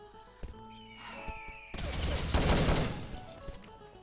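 Rapid gunfire in a competitive video game match, a dense burst of shots that swells loud and sustained midway and then thins out, with a few sharp shots and crashes ahead of it.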